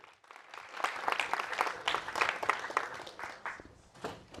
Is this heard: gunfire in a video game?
no